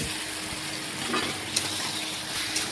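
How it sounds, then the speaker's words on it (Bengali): Chicken and pre-fried potatoes sizzle and fry together in a pan, with a steady crackle broken by a couple of sharp clinks as the mixture is stirred. "চিকেনটা একটু ভাজা হয়ে গেলেই আমি আগে থেকে আলু ভেজে রেখেছিলাম সেগুলোও দেখুন দিয়ে দিচ্ছি"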